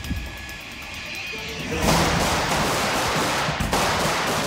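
Live-ammunition gunfire rattles during police crossfire training, a dense, loud, continuous burst of shots that begins suddenly and fills the rest of the moment.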